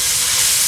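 Peppers sautéing in a pan for chakchouka give a steady, loud broadband sizzle with no talk, a brief continuous burst.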